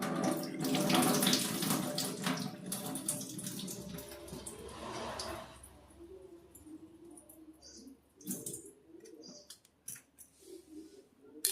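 Cracked wheat (daliya) is rinsed under a running kitchen tap, water splashing loudly and steadily into a sink for several seconds before easing to lighter trickles and intermittent splashes, with faint birds in the background.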